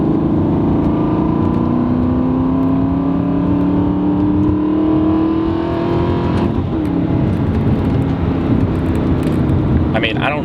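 An Aston Martin Vantage engine revs loudly and close, its growl climbing steadily in pitch before settling back into a deep, rumbling idle.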